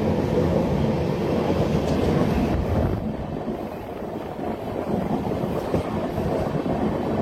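Passenger train on the Agra–Mathura–Delhi route, heard from on board running at speed: a loud, continuous rumble and rattle of wheels on track, steady throughout with slight swells and no talk.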